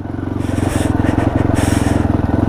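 A motorcycle crawls slowly along a slippery snow-covered mountain road, its engine chugging in a steady low rhythmic pulse, loud and close throughout, with no talk.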